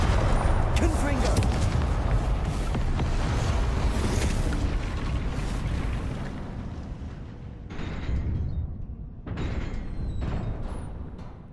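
Confringo spell explosions in the video game Hogwarts Legacy: loud, overlapping rumbling blasts and crackles, thinning out partway through before two more bursts flare up.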